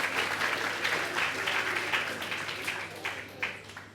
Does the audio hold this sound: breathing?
no